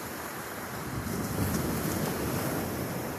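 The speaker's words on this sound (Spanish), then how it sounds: "enjoy the sound of the ocean" Ocean waves wash steadily in a broad, continuous roar of surf, with a wind-like rush over the microphone and no voices.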